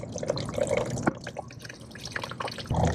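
Coolant draining from a Vespa GT200 scooter into a pan, faint irregular dripping and trickling liquid close by, with small clinks toward the end.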